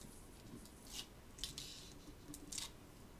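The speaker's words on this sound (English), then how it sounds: "Peel off the backing." Backing paper peeled off small adhesive strips during card making, giving a few short, quiet crackly rips at irregular moments over a faint hiss, with no talking.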